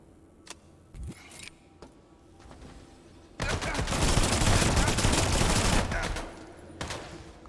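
Turrets in the System Shock Remake video game opening fire, a loud sustained burst of rapid shots lasting a few seconds after sparse clicks and thuds, then dropping back to quieter ambience.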